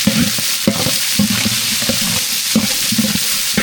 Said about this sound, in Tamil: அது கூட வெங்காயம் சேர்த்துக்கலாம் நல்லா வதக்கி விட்டுக்கலாம்